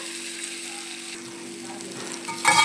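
Chicken frying and being stirred in a pan: a steady sizzle with low hum underneath, swelling into a louder burst of scraping and sizzle near the end.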